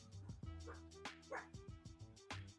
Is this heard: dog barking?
yes